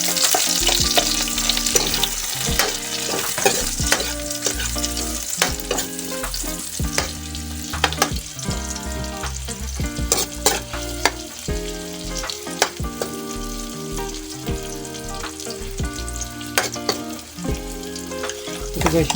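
Garlic and onion fry together in a pan for a chicken dish, a steady close sizzle with repeated clacks and scrapes of stirring and no talk.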